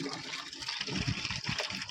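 Water gushes in from a motor-driven pipe at a rural home, a steady rushing flow with slight surges, close and fairly quiet.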